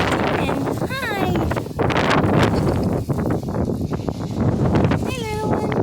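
Strong wind gusts roar steadily across an outdoor microphone, loud and continuous throughout, while a person speaks over it and faint animal cries break through now and then.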